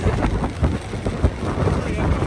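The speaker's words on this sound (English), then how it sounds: "This is how windy it is." Strong wind in Iceland roars and buffets the microphone in a constant, loud, low rumble, with gusty pulses throughout.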